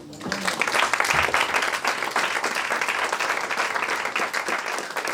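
A church congregation breaks into sustained applause, steady dense clapping that fills the room for the whole stretch without pause.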